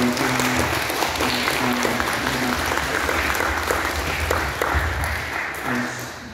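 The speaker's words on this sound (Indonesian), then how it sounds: "penonton boleh memberikan semangatnya yang meriah" A debate audience breaks into sustained applause and cheering, dense clapping that holds steady for several seconds before easing slightly at the end, with some voices mixed in.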